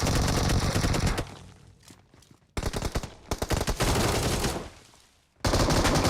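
M249 machine gun fire in the BGMI battle royale game rattles in dense, loud automatic bursts, broken by short pauses where the shots thin out and fade before the next burst kicks in.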